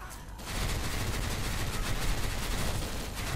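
Sustained rapid gunfire from a video game as a player fires on a boss, forming a dense continuous volley that stays loud and steady throughout the clip.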